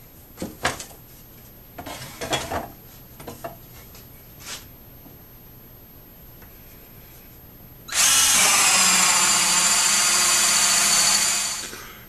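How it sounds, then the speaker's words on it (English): A hole saw on a power drill cuts through wood in a vacuum-former box build. A few light clacks and handling knocks come first, then a loud, steady whirring grind runs close for about three seconds and winds down. "I'm going to take a hole saw"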